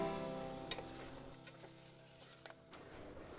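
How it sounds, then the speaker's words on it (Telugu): Mutton pieces frying with onions in a pan give a steady soft sizzle, with a few faint scrapes and knocks of stirring over it, quiet and close. "ఉల్లిపాయలు ఫ్రై అయ్యాక మటన్ వేసేసాను."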